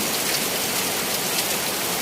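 Heavy rain pours down steadily in Isan, northeastern Thailand, a dense, continuous hiss of drops drumming on surfaces with no voices.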